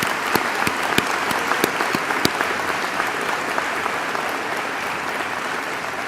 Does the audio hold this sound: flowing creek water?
no